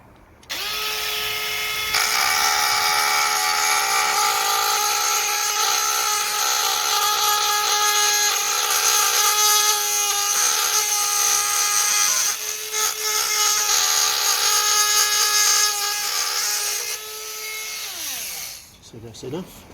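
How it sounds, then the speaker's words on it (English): A Dremel rotary tool grinds down a metal part for a Kawasaki Z1000SX rack, a loud, steady high-pitched whine held for about fifteen seconds before winding down, close up. "I'm going to use my Dremel."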